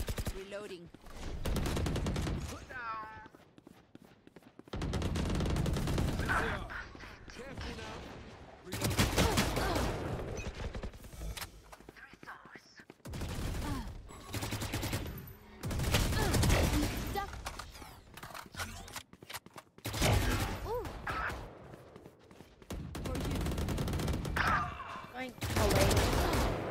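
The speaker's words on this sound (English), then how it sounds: "What the fuck are you shooting at me" Bursts of automatic gunfire in Valorant arrive in several loud volleys separated by short pauses, with mechanical clicks and reload rattles between them.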